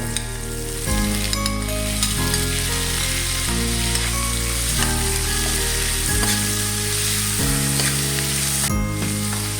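Tomatoes fry in a pan for sarciadong bangus, a steady close sizzle broken by several stirring scrapes. Nobody talks.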